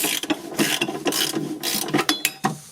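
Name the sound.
ratchet unscrewing a 10 mm bolt on Toyota D4D engine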